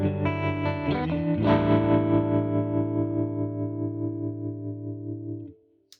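Electric guitar runs through a SurfyTrem Deluxe stereo tremolo pedal in black panel mode, set to full depth: a few strummed chords, then one long, sustained chord pulsing in a steady, fast throb that fades out near the end.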